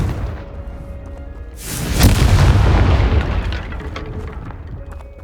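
A Confringo spell explodes in the video game Hogwarts Legacy, one loud, deep, roaring blast with a broad whoosh that swells and rolls away over a few seconds amid game ambience.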